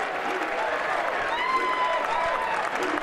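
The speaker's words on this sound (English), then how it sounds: "clapping in the dugout, if you will" Steady clapping and crowd noise from a baseball dugout and stands at a spring training game between the Colorado Rockies and Team USA, continuous and fairly even throughout, with a broadcaster's voice faintly mixed in.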